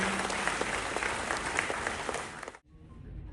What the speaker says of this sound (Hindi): तालियां मेहमान खुसूसी के लिए।